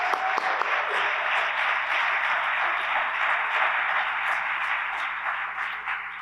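An audience at a city planning meeting in Colorado Springs gives sustained applause, many hands clapping in a dense, even patter that thins slightly toward the end.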